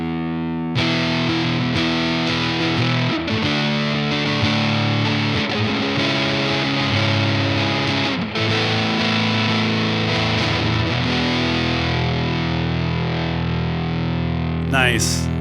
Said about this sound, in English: we'll go to the neck pickup